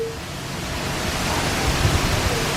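Steady rain shower falling outside on a Disney cruise ship, a constant broadband hiss with no gaps, fairly loud and continuous throughout.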